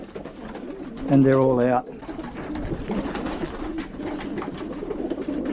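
A pigeon coos once, loud and near, while its flight feathers are pulled by hand. Someone talks and handling noise continues around it.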